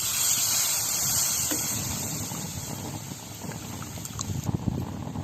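Steady bubbling and simmering of tamarind water in a pan, a dense broadband hiss with occasional louder pops, continuous throughout.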